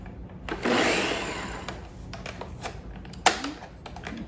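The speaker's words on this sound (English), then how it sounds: "My blender has a puree button, so I'm just gonna hit that." Kitchen blender on its puree setting blending orange juice for a fig and honey bourbon slush, giving a brief loud whirring burst that fades away, followed by a sharp click near the end.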